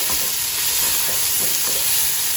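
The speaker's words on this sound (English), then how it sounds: "saute it for about 5 minutes" Vegetables sautéing in a pan with salt, pepper and Italian seasoning, a loud continuous sizzle layered with scraping stir sounds from a utensil, close and with no talking.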